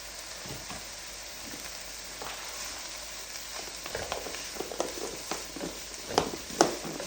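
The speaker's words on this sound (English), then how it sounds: "Let's add these to the pan with the onions and peppers." Vegan taco filling made with veggie ground beef sizzles quietly in a pan with onions and peppers, a soft frying hiss that grows busier with scattered pops and stirring clatter toward the end, and no speech.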